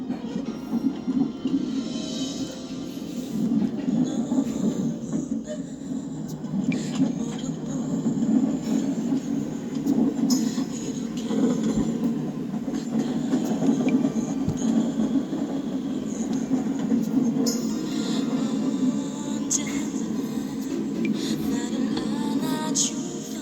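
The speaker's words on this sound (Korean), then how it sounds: "우이도로 가는 열차로 운전합니다." A Seoul Line 4 subway train in the Roblox game rolls along with a steady low rumble and occasional wheel squeals and clicks, continuous and moderately loud with no voices.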